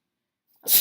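A person sneezes once, a short sharp burst close by after near silence during a podcast recording.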